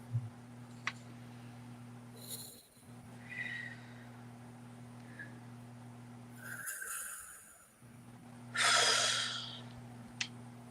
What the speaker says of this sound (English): let's take 3 deep breaths